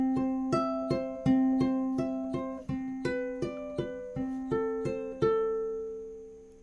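Ukulele fingerpicking through measures 7 and 8 of a peaceful song: a steady run of clear plucked notes, each ringing and decaying, played solo and up close with no talking.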